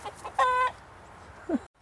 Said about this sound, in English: And there's a chicken.